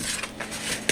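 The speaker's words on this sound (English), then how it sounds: "we're going to just give a quick whisk here" A whisk clinks quickly against the side of a bowl while stirring a rock cake mixture, a brief burst of light metallic taps, close and crisp.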